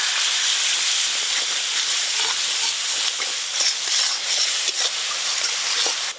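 Water is added to spice masala frying in a pan, with chilli and turmeric powder, for vegetarian ghugni. It gives a loud, steady steam sizzle and hiss throughout, close up, with no voices.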